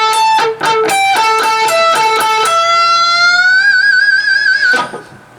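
Clean, close electric guitar in a 70s and 80s rock and metal style: several quick picked notes, then one note rings and bends upward into a wide, steady vibrato before a final pick and fade.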